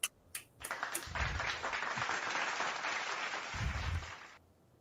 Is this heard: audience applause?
yes